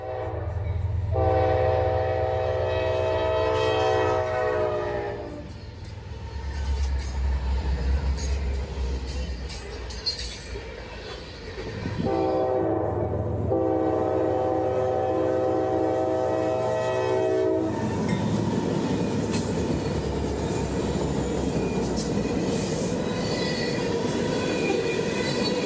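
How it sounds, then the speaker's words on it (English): A freight train horn, locomotive 831, sounds in long sustained blasts, first from a distance and then louder, with rumbling rail noise and wheel squeal building underneath, on the line between Baldwin and Callahan. "the distant horn of 831 would break the silence"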